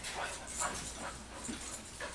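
A dog whimpers and gives a few soft, broken barks, fairly faint, with short yelps spaced irregularly over a couple of seconds.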